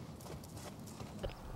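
An equestrian team horse's hooves clip-clop on the ground in a brief, close series of irregular thuds against a busy outdoor background.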